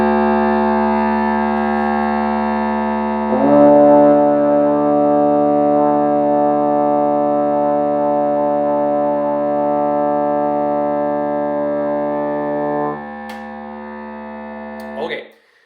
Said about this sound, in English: Okay, let's go ahead and play 4th position.